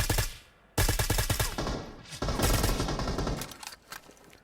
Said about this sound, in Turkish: Yine bana birisi sıkıyor.